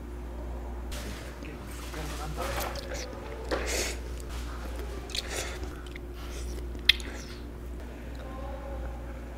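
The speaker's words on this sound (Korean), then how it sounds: "제가 이 라면을 또 처음 먹어봐가지고. 맛있어요." Ramen noodles being chewed close up, with soft, quiet mouth sounds and occasional bites over a low background hum and faint murmuring.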